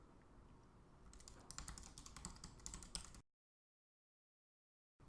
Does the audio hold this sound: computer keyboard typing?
yes